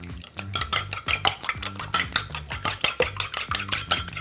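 Fork or whisk beating two eggs in a bowl, a fast run of sharp clinking taps against the sides, steady and close throughout with no talking.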